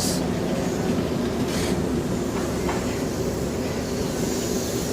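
Passenger train carriages roll past steadily and loudly, with a continuous rumble and faint rail noise, as a British Rail Class 321 electric multiple unit approaches; no talking.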